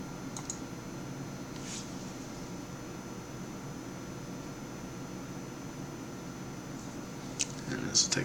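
A few sparse, faint keyboard clicks come from typing a command into a computer terminal, set against a steady low background hum.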